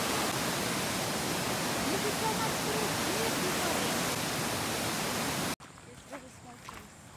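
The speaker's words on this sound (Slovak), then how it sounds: "táto rieka nás zastavila." A jungle river swollen by storms rushes with a loud, steady broadband roar that fills the scene, then cuts off abruptly to quieter outdoor ambience with faint movement.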